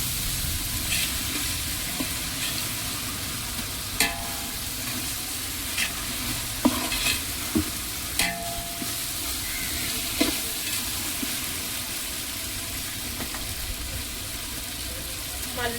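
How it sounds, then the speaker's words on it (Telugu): Biryani ingredients fry in a pan with a constant loud sizzle, broken by intermittent sharp clinks and scrapes of a spatula stirring, while a voice occasionally speaks faintly underneath. "ఇలా బాగా ఫ్రై చేసుకోవాలి. ఎక్కువ కాకుండా ఫ్రై చేసుకోవాలి."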